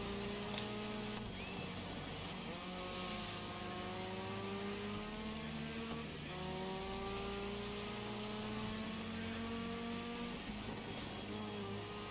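A car engine in the off-road racing game Dirt 5 drones steadily and loudly throughout, its pitch repeatedly climbing through the gears and dropping on each shift, with continuous tyre and road noise underneath.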